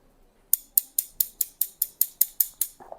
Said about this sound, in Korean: 장가위 이용한 싱글링으로 진행하셔도 크게 문제는 없습니다